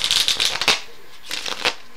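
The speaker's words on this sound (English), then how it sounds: "And then I gave it a riffle shuffle. This was again a false riffle shuffle" A deck of playing cards is riffled in a false riffle shuffle, giving quick fluttering bursts of card edges snapping together, two close crisp runs separated by a short pause, with no voices.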